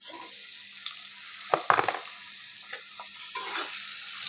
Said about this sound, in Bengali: ফোড়নে দিয়ে দিলাম গোটা জিরা জিরাটা আমার ফুটে এসেছে